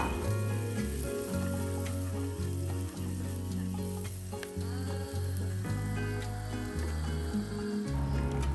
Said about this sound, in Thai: ตามด้วยกระเทียมพริกตะไคร้ผัดให้หอมเลยค่ะ